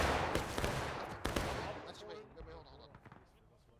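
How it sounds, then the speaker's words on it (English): Artillery cannon fire in the Civil War game War of Rights on the Bolivar Heights map: a couple of sharp, loud booming blasts up front, then rumbling decay with scattered distant cracks and faint voices. "Looks like another arty shot coming in"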